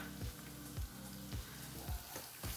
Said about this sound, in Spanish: acostúmbrense a sofreír el ajo, el orégano y la albahaca o la hierba que vayan a utilizar